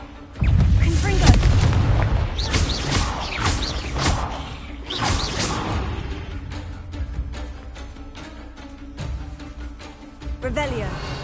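Confringo explosive spell blasts in the Hogwarts Legacy video game, several loud booming bursts with whooshing tails in quick succession, then lighter crackling effects, with voices talking throughout.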